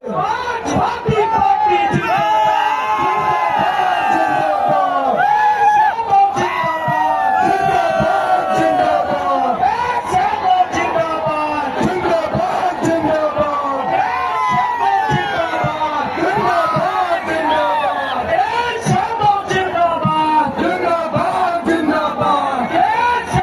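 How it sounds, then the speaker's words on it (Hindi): A large political rally crowd cheers loudly and continuously to welcome Samajwadi Party leader Akhilesh Yadav, a dense wall of many shouting and whooping voices with no break. "नेता का स्वागत हो रहा है, जोरदार ताली बजाकर स्वागत करें।"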